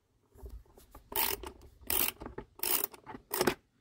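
Bolts on a go-kart chain cover being loosened with a ratchet, giving a series of close rasping clicks and grinding turns in irregular bursts, alone with no talking.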